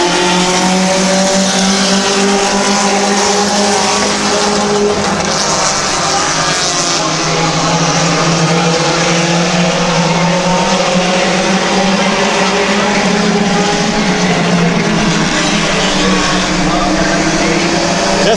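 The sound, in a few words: race cars on speedway track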